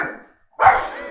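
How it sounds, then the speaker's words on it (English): A single loud, close dog bark bursts out indoors after a short quiet pause, following a fainter earlier sound. "You can see my dog in the background there."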